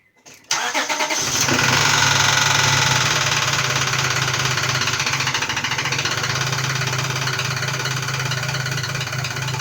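A 2001 Acura CL 3.2 Type-S engine with a knock cranks and catches, then settles into a steady, loud idle close by, running alone with no talk for the rest of the stretch.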